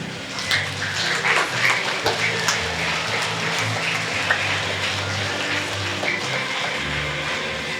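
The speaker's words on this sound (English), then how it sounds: "Quick clap." An audience at an elementary school Veterans Day concert gives a quick clap for the Navy. The broadband clapping is masked by a low rumbling hum and background noise and sounds fairly loud and busy.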